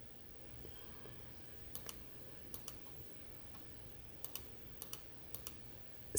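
Sharp, quiet mouse clicks arrive in small pairs and clusters over a low background hum while a multicolor logo is contoured on a computer, with no talking.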